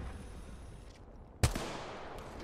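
A single sharp gunshot in the video game Apex Legends cracks out loud and close at about the midpoint, after a low ambient hum, leaving a brief ringing tail.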